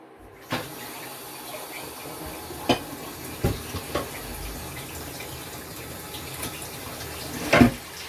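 Water runs steadily from a kitchen tap during washing up, a soft continuous rush broken by a few sharp clinks and knocks of dishes.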